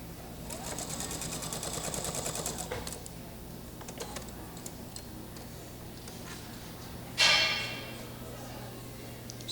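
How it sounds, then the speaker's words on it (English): A sewing machine stitches a quilt seam on polygon-pieced patchwork, one steady rapid run of a couple of seconds, then quiet handling and a sharp click. "And I sew that seam again."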